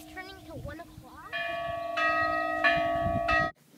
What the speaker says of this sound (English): This is the bell tower. Rung right now because it's turning to 1 o'clock.